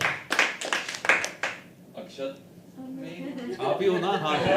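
Audience clapping at a live poetry event, a burst of claps at the start that fades out, followed by a voice speaking and some murmuring.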